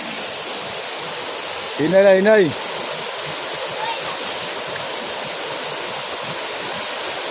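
A rural waterfall roars with rushing water as a loud, constant wash of sound, broken only by one short spoken word near the start.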